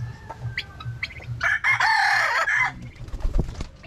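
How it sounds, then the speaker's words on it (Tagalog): A Chinese chicken rooster clucks softly, then gives one loud, close crow lasting about a second, followed by a few more scattered clucks and scratchy movements. "Yan yung alaga ng Chinese chicken."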